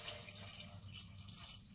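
Water pours into a pressure cooker holding toor dal and turmeric, a steady close splashing rush that runs without a break for under two seconds.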